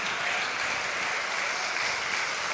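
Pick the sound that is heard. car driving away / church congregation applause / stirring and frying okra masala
church congregation applause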